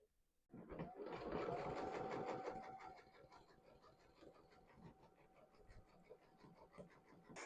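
A sewing machine satin stitching over an appliqué on a quilt, starting with a loud, dense whir for a couple of seconds and then settling into a quieter, steady mechanical hum.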